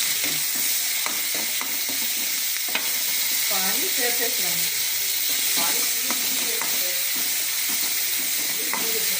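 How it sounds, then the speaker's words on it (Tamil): Tomatoes sauté in a hot pan with onions for an instant sambar, giving a continuous close hiss and sizzle with scraping stirs, and a faint voice in the background. "வதங்கிட்டு இப்போ தக்காளி சேர்த்துக்கலாம் தக்காளி நல்லா வதக்கலாம்"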